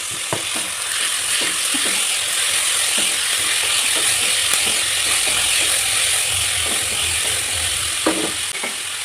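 Tomatoes go into a frying pan with beans for a palya and are stirred, producing a steady sizzle broken by repeated clicking scrapes of the spoon against the pan, close by and without speech.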